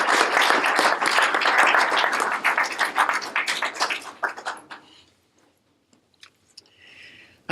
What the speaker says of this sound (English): Let's give a round of applause for Judah Kogan.